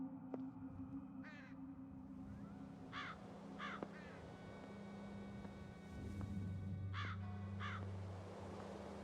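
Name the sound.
large black crows cawing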